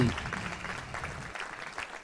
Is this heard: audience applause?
yes